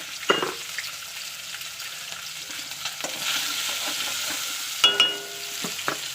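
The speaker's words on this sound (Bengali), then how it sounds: "ওদিকে আলু ভাজাটা হচ্ছে" Potatoes fry in a pan with a soft steady sizzle, punctuated by several sharp clinks and scrapes of a spatula stirring against the metal.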